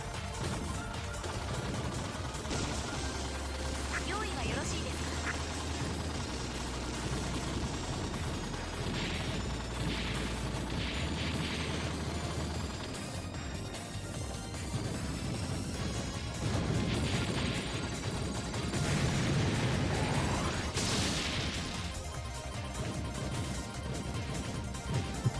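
Manual bomb explosion in the arcade shooter DoDonPachi Resurrection, a long roaring blast layered over constant bullet fire, crashes and chiming pickups, loud and unbroken throughout, with no voices.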